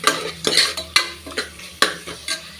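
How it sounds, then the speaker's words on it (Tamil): Tomatoes sauté in a pan for a broad bean and goat trotter kuzhambu, with sharp repeated scraping strokes of a spoon stirring them over a soft underlying sizzle, close and fairly loud. "தக்காளி வந்து நல்லா வதங்கட்டும்"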